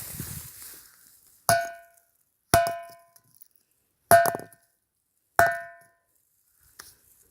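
Ringing rock on Mahendragiri hill struck four times at steady intervals, each blow a sharp metallic clang that rings out and decays over about half a second, close and clear with near silence between strikes.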